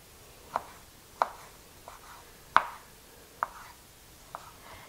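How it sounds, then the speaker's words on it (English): Drained food is chopped on a cutting board for a holiday appetizer dip: six sharp, separate knife knocks spaced roughly a second apart, close and fairly quiet, with nothing else around them. "We're just going to chop these up."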